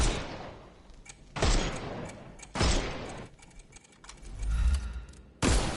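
Gunfire in a Sherlock Holmes video game, aimed at knocking armour off enemies: four loud, sharp volleys spaced about a second apart, separated by softer clicking and rattling game sounds.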